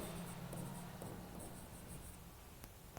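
During a maths lecture a pen or chalk writes an answer, faint scratchy strokes over a steady hum of room noise, with no speech.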